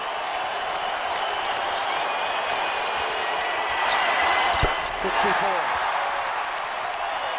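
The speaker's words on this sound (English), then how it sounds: "Crowd's on its feet for a career high for Kobe." Basketball arena crowd at Staples Center cheering loudly for Kobe as he reaches a career high, a sustained roar of many voices with a few sharp bounces or thuds near the middle and a commentator talking over it.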